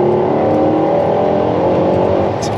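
Loud, sustained engine roar from a Mercedes C63 AMG with a naturally aspirated engine, heard from inside the car as it pulls steadily with a droning tone and no talking.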